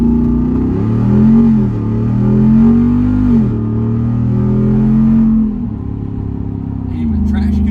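A Jeep Wrangler Rubicon 392 with traction control on accelerates hard from a standstill, its loud, close engine roaring steadily and stepping up in pitch through several rising surges.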